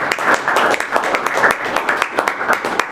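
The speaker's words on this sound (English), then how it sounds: "Let's give them a round of applause really quick." A crowd claps and applauds steadily for a few seconds, a dense patter of hands with no pauses, fairly close and loud.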